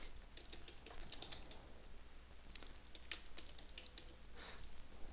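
Quick, soft clicks of typing on a computer keyboard, a scattered run of keystrokes heard close but faint over a low background hum.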